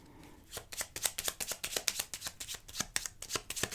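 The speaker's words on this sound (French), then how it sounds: "Alors, on va remélanger celle-ci." Tarot cards being shuffled by hand, a quick run of crisp riffling flicks and slaps in an even rhythm, close and clear with no talk.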